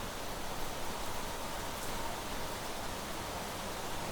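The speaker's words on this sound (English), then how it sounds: "How's it raining under here?" Steady rain falling in the video game Planet Crafter, a faint, even hiss of drops that continues without break and with no voices.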